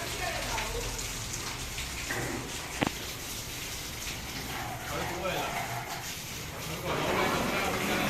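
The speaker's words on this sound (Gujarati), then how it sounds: "આ જો નળીથી સાફ કરે બધું" Water from a hose sprays steadily during an outdoor Holi celebration, a constant loud hiss filling the scene with a brief knock partway through and voices underneath.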